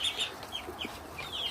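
Chickens on pasture give soft, intermittent clucks and short calls, fairly faint and set against a low background hiss.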